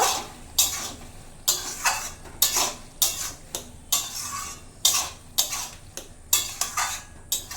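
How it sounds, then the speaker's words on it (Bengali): Spoon scraping and knocking against a pan while stirring a prawn and cucumber curry, irregular clinks and scrapes repeating every half second or so over a faint background, with no talking. "চিনিটা দেওয়ার পর একটু ভালোভাবে নেড়ে চেড়ে নেব"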